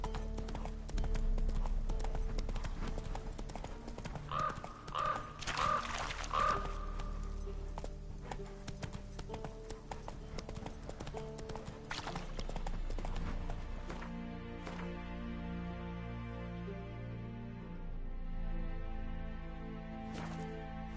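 Horse hooves clip-clop at a steady galloping rhythm in The Witcher 3, close and fairly loud over a game soundscape with a brief musical shimmer, the hoofbeats fading as ambient music rises toward the end.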